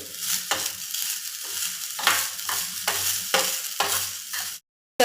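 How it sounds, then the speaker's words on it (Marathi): Sprouted moth beans with salt are sautéed in a pan, making a close sizzle broken by regular scraping strokes of the spatula about twice a second, then a sudden cut to silence near the end. "याच्यामध्ये ना मी थोडंसं मीठ ऍड करते परत एकदा व्यवस्थित परतून घेते"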